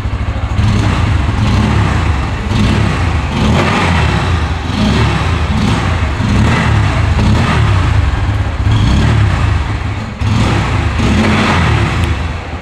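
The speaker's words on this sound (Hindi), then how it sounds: "वैसे अंडरविली एग्जॉस्ट का नोट एक बार मैं आपको सुनाना चाहूँगा" A Bajaj Pulsar N160 motorcycle from 2024 with an underbelly exhaust, revving in a steady, loud, close-up engine drone with a deep bassy note that rises and falls across the whole stretch, with no talking.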